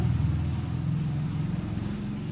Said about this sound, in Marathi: चला ते चालू कर चल